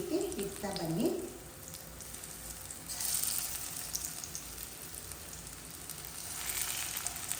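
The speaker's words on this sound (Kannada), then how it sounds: "ಈ ರೀತಿ ಇಟ್ಬಿಟ್ಟು ಇದು ಒಂದು ಸೈಡು ಕ್ಲೀನಾಗಿ ಫ್ರೈ ಆಗಲಿ" Rava-coated fish pieces fry in hot oil on a tawa, making a steady, moderate sizzle that swells and fades, with a brief voice-like sound at the very start.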